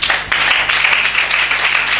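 Church congregation applauding together, a steady dense wash of clapping hands that fills the room without pause for the full stretch.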